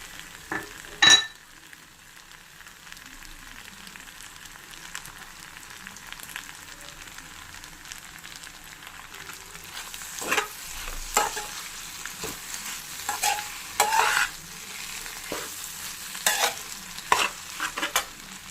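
A potato and egg mixture is stirred and fried in a pan for an omelette curry, with a soft continuous sizzle under intermittent sharp scraping and clinking of a spatula against the pan, growing busier toward the end.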